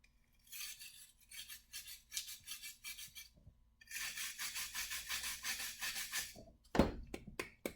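Excess leak repair plug is scraped out of a concrete chase, producing bursts of quiet rhythmic rasping strokes with brief pauses, ending in a few sharper knocks and clinks, with no talking.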